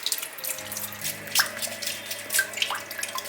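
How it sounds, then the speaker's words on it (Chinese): Eight large fresh abalone being scrubbed with a brush to remove the black surface layer under a running kitchen tap, with a steady stream of water splashing into the sink and a few sharper scrub and clatter accents, no speech. "来把它清洗干净，用刷子把表面这层黑色的刷干净"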